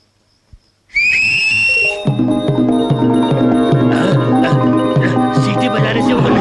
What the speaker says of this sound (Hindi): सीटी बजाने से वो नहीं आएगा।